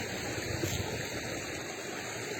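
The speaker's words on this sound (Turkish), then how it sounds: "Böyle harıl harıl akıyor." A strong stream rushes steadily toward the dam below Tatlıca Waterfall in Erfelek, a continuous close, even roar of flowing water with no voices.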